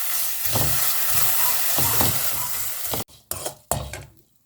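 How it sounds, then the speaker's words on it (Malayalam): Dried prawns dry-roasting in a pan without any oil, giving a steady close hiss and rustle with stirring scrapes for a few seconds, then broken by short silent gaps and bursts of sizzle. "അപ്പോൾ അത് ആ ചട്ടിയിലോട്ടിട്ട് നന്നായിട്ട് ആദ്യം ഒന്ന് വറുത്ത് കോരി വെക്കാം."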